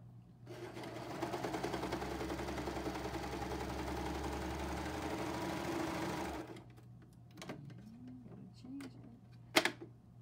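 A serger sewing machine runs steadily for about six seconds, stitching a fabric scrap on a three-thread narrow setting, then stops, leaving quieter handling clicks and a brief sharp knock near the end.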